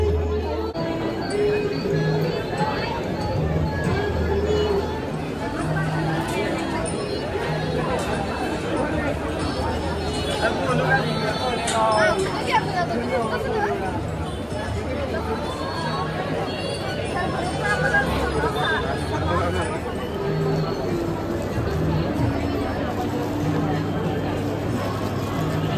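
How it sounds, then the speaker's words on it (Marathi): A dense crowd murmuring at Mahalaxmi Temple in Kolhapur on a busy morning, with steady overlapping chatter and babble throughout and nearby voices talking over the general hubbub. "किती गर्दी आहे बघितलं, सकाळी असून पण इथे भरपूर गर्दी आहे"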